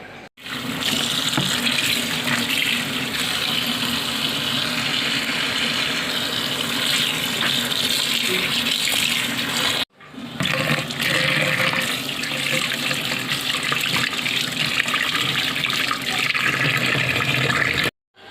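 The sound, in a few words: washing coriander leaves and dried fish under a tap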